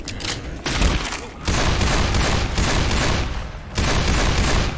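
Dense, loud, sustained gunfire in the Left 4 Dead 2 Mardi Gras campaign, overlapping rapid bursts with short lulls and heavy booming lows.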